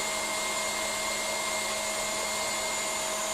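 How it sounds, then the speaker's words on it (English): An electric mixer whisks a thickening mini dessert mixture, a steady, loud, continuous motor whine with high tonal hum that runs unbroken throughout and has no talking over it. "As you can see with the mixer now, you can just see it now on the screen."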